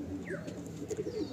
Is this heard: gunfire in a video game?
no